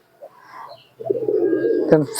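A soft coo from a Giribaz pigeon swells up close after a brief quiet moment, with faint talking and a short click near the end.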